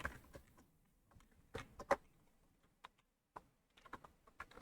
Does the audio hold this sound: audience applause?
no